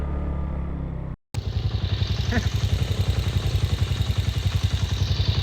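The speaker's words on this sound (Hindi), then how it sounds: "बाइक्स वगैरह नहीं जा रही ऊपर धक्के लगाने पड़ रहे हैं।" Motorcycles labouring up a steep forest trail at high altitude, a loud, rapidly pulsing engine thrum that cuts out briefly near the start and then resumes steadily.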